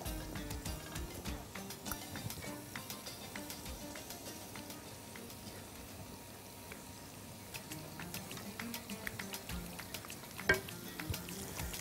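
Onion frying in a pan, a soft continuous crackling sizzle with scattered pops and a few light stirring clicks, fairly faint and steady with no talking.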